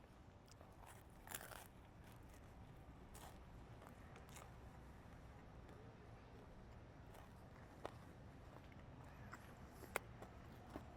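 Faint crunching bites into crispy pizza crust at an apizza restaurant, a few soft crackly snaps close up against quiet room noise.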